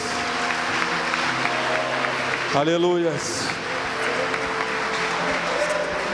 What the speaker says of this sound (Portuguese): Glória a Deus, você pode aplaudir ao Senhor